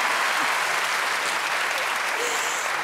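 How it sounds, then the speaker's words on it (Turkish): A talent show studio audience claps for Hülya Avşar in loud, dense applause that holds steady from start to end, with faint voices underneath. "Alkışlıyoruz Hülya Avşar'ı."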